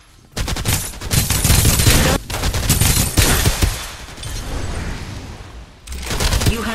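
Dense gunfire from the video game Farlight 84 in a team deathmatch, loud rapid bursts and booming shots filling nearly the whole stretch, with a brief gap before the firing resumes.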